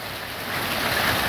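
Hailstones about 2 cm across pelt down in a violent storm, a thick continuous roar that swells slightly, with wind buffeting the microphone.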